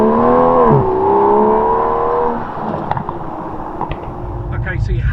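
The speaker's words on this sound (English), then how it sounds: "find out what difference that tuned engine makes" A tuned Aston Martin DBS Superleggera engine revs loudly with a rising and falling tonal whine, then settles into a quieter road roar with scattered clicks.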